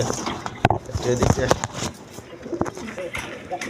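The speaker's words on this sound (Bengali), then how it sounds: "এখানে এক পেয়ার কবুতর আছে" Pigeons coo close by at a pigeon sale, their soft repeated calls mixed with people talking, scattered clatter and brief wing or cage noises.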